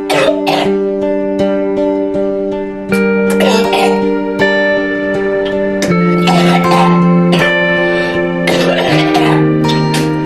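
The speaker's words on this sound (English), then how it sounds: "I started coughing, and then like out of nowhere I had to run to the bathroom" Repeated wet, productive coughing fits from a person with a lingering respiratory illness, several harsh bursts spread across the stretch over a steady sustained tonal background.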